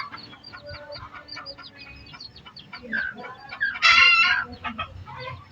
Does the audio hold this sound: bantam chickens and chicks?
yes